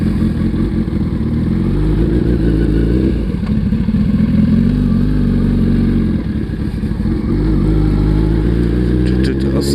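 A motorcycle engine hums steadily at a medium pitch while being ridden at low speed, holding a constant drone with slight changes in revs and a clatter of mechanical noise throughout.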